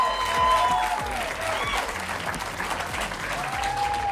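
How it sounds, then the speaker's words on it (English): A comedy audience bursts into applause for stand-up comedian Jeremy Piven, dense sustained clapping with a few cheers and whoops riding on top, loud and close for the whole stretch. "Hold for applause."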